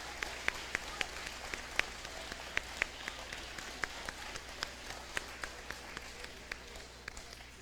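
Scattered, sparse applause from a school Veterans Day assembly audience, with individual claps popping out distinctly at an irregular pace over a low steady room hum, fairly quiet and unhurried.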